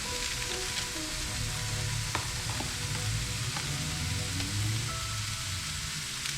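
About 500 grams of grass-fed ground beef fries with onions in a hot pan, a dense steady sizzle and crackle filling the whole stretch, with occasional soft stirring clicks and no talking.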